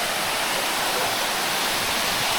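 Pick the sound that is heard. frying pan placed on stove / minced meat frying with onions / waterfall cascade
waterfall cascade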